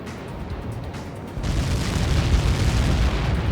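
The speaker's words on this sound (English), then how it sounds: "How many got caught in that explosion?" A massive projectile explodes on impact in the air combat game Ace Combat 7, a steady background roar suddenly swelling into a loud, sustained rumbling blast with no voices.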